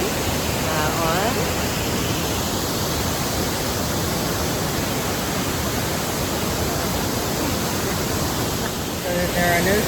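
Loud, constant rushing water roars without pause at Raymondskill Falls, Delaware Water Gap, Pennsylvania, a broad steady hiss from the nearby waterfall above a gorge, with brief voices at the start and end.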